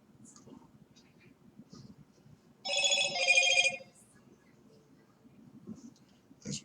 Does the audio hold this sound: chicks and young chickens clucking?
no